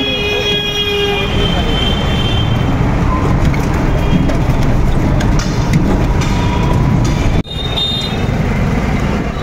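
Ride in a father's car along a road near a station with an afternoon market, steady loud traffic rumble and engine noise throughout, horn toots near the start, and a brief dip before the drone resumes.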